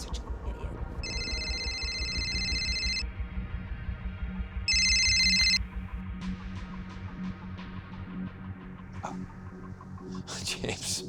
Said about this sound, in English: Karen, you gotta watch them turn their cell phones off or forcibly take it away from them.